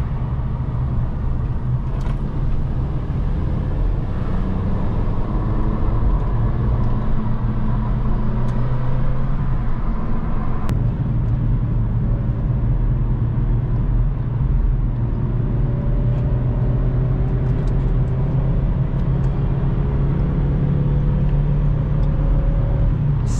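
Vauxhall Corsa driving at night, heard from inside as a steady low engine and road rumble with a rising gear hum, continuous and fairly loud, without talk.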